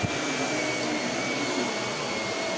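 A vacuum cleaner running steadily nearby, a loud, constant whooshing roar with a faint high whine and no voices.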